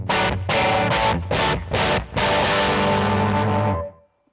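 Guitar played through a Yamaha THR amp on the crunch channel with the master volume cranked fully, giving loud, thick, distorted chord stabs in a choppy rhythm, then a long held chord that fades out, close with no talking.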